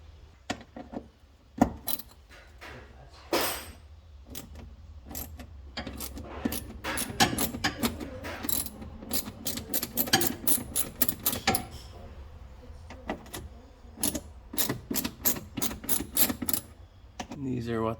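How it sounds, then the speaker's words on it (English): A stuck bolt is worked out of a brass fitting on a 2008 Polaris RZR 800 fuel pump: close metallic clicks, ratcheting and scraping in irregular bursts, with a voice talking intermittently. "So I'm going to try to push on this to hold the fitting in as I'm extracting the bolt."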